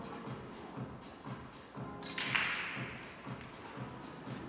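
In a 9-ball pool match, a cue ball crashes into a cluster of balls with a sharp clatter midway through. Quiet, regular thuds are heard before and after it.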